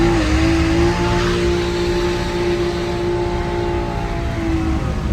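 A BMW 340 roars through a sustained high-revving burnout, its engine note loud and steady throughout with a constant drone of exhaust and tire noise.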